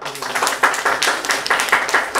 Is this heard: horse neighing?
no